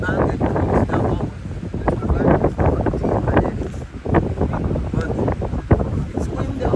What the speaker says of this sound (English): But it's windy out here.